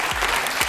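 Brief burst of audience applause in a studio talk-show setting, dense clapping steady across the short moment.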